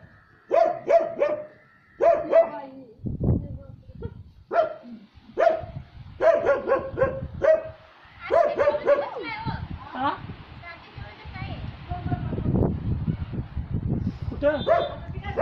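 A dog barks in sharp, repeated bursts, some rising into high yips and whimpers, close and loud, with people talking over and between the barks.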